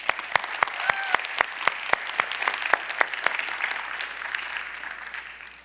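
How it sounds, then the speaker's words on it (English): A water agency event audience gives a round of applause, starting with a few loud distinct claps and then settling into steady, moderately dense clapping that tapers off toward the end. "Please help me in a round of applause."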